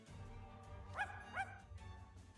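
A video game dog named Zero gives two quick barks, close and fairly faint, over a low steady backdrop.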